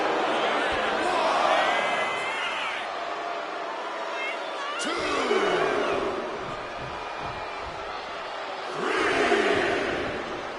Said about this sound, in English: Nia is revving this crowd up